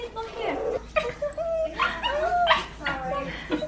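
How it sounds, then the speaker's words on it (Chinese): A dog yips, whimpers and gives short barks in quick, uneven bursts, close and fairly loud, with brief pauses between the cries. "逗你喜欢的狗狗"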